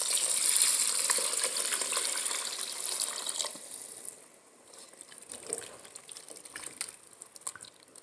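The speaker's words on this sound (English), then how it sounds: "after this, we are going to add water." Water pours steadily into a pot of onion soup, a loud rushing splash for about three seconds that then thins into softer trickles and drips.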